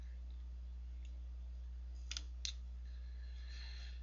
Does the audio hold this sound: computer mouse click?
yes